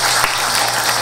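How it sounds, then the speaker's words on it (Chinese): An audience at a Taipei Bible Society children's Bible story competition claps together, a dense, steady burst of applause filling the hall. "那先掌声谢谢他们"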